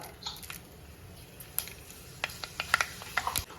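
Mustard seeds spluttering in hot oil while a Kerala mango curry is being made: scattered light pops and crackles, sparse at first and quickening toward the end, over a quiet background hiss.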